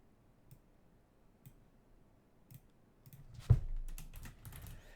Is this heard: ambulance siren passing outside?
no